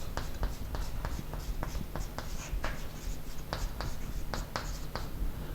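Quick note-writing with pen on paper during a chemistry lesson: a steady run of short scratchy strokes, close and fairly soft, repeating rapidly with no one speaking.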